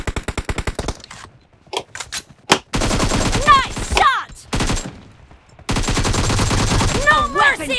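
Bursts of rapid automatic gunfire from the PUBG Mobile battle game, loud and repeated in long sustained volleys with a few shorter staccato runs, with voices talking over parts of it.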